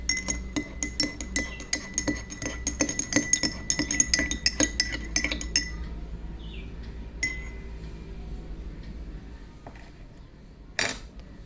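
An oil and water mixture is stirred in a glass, giving a busy run of quick, bright clinks and taps against the glass for several seconds before it settles, with one sharp clink near the end.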